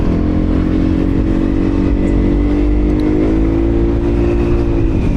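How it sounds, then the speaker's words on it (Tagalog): Road traffic around a moving Yamaha Aerox 155 V3 scooter, a loud, steady engine drone with a continuous rumble and hum throughout, no talking. "Traffic na naman ah."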